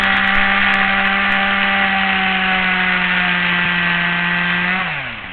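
A chainsaw runs loud and steady as it cuts through a dead 12-foot stump while pine is being thinned in a forest, and its engine drops away at the end as the throttle eases.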